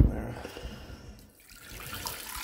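Warm water runs from a tap on a cold morning, a steady rushing flow with a short dip midway before it picks up again.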